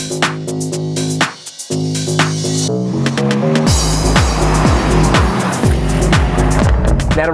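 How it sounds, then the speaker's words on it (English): A 2017 Mercedes-AMG E63S with a twin-turbo V8 revving hard through rising gear pulls, loud and close, with a brief drop between shifts and a roaring, crackling exhaust. "This is the 2017 Mercedes-AMG E63S"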